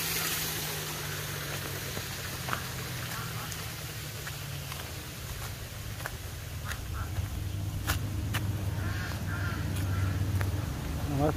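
Ducks quack in a new natural park, Parque Natural Augusto C. Sandino, a few scattered calls at middle distance over a low steady background hum.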